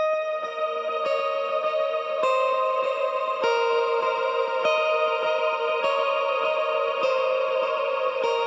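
A high synth phrase descends in repeating steps, each note struck with a clean attack and trailing echo and reverb, sustained evenly over a soft layered backdrop in an ambient mix.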